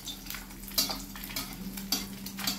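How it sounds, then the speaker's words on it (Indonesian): An egg fries in a small amount of oil in a wok, giving a steady close sizzle with light scraping and occasional sharp clicks of a utensil against the metal, and no talking. "cara menggoreng ini menunjukkan telur itu tidak melekat pada kuali"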